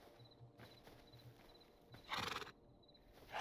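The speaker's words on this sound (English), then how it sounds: "Horse." A horse neighs in the video game Hytale, a short loud whinny standing out above soft clip-clop hoofbeats and ambient game sounds, with no talking.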